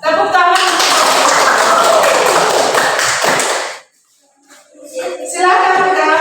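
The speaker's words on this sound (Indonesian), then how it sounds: "Tepuk tangan." A classroom applauds, a burst of many hands clapping together loudly for several seconds before it stops abruptly, followed by a voice speaking.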